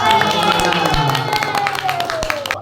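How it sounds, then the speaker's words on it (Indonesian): A group of children at the opening of a Quran learning center in Temanggung claps hands together in a fast, irregular patter, with a sustained tonal sound and crowd noise underneath. "Tepuk tangan."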